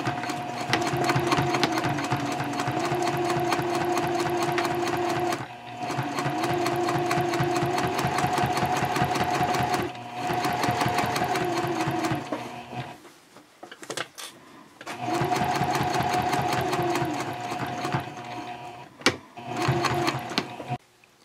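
Sewing machine stitching a 1/4 inch seam at stitch length 3.0 on a messenger bag pocket, close and loud steady whirring in long runs, with short pauses and a couple of brief stops for backstitching.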